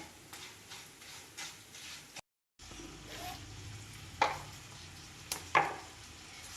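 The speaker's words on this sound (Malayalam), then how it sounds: "നമുക്ക് ഇളക്കി കൊടുക്കാം." Lemon pickle stirred in a pan, with soft rhythmic scraping at first, a brief gap, then quieter stirring broken by two sharp clinks of a utensil against the pan, faint and close.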